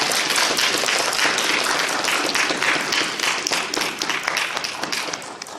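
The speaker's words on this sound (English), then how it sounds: "Give Blaze a round of applause" Dense, loud applause from an open mic comedy audience for comedian Blaze, a steady wash of clapping that holds for several seconds and then eases slightly.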